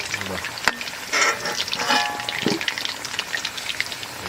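Potatoes frying in oil, a close bubbling sizzle with irregular pops and scraping bursts, varying in loudness over a few seconds.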